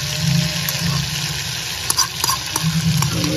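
Spice paste sizzles and fries in a hot pan while being stirred, with scraping strokes and clinks of a spoon against the pan over a steady hiss and a faint high whine in the background.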